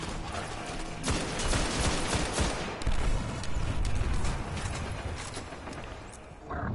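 A missile explodes in the video game Destiny, a dense burst of rumbling blast noise and crackling debris that stays loud for several seconds before dropping off briefly near the end.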